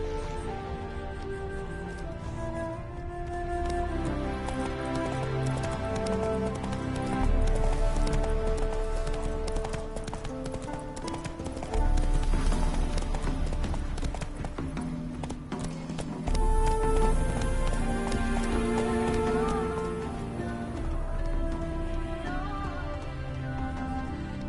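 A horse gallops in The Witcher 3, its hooves pounding in a quick, continuous rhythm over game music and ambient rain, loud and close throughout without speech.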